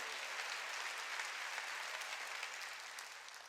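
Church congregation clapping together during a Sunday worship service, a steady even wash of many hands that holds at a constant level throughout and tapers slightly at the end.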